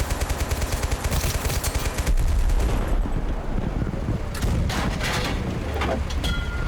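Dense automatic gunfire from the video game Total Conflict: Resistance rattles almost without a break, loud and close, with overlapping bursts and a heavier boom midway.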